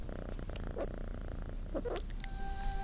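Suckling kittens purr in a soft, steady rumble close by, with a couple of faint squeaks and small suckling sounds over it.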